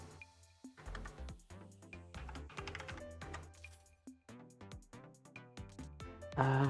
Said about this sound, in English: I'm typing the callouts in Discord